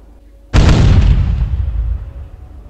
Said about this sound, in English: Did all of our guns just fire?